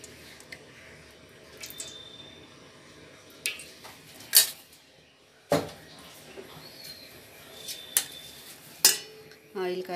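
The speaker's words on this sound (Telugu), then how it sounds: "ముందుగా స్టవ్ వెలిగించుకుని ప్యాన్ పెట్టుకుందామండి" A pan set on a lit stove clanks in a few sharp metallic knocks spread across the moment, with softer pouring and handling of oil between them, close by and moderately loud.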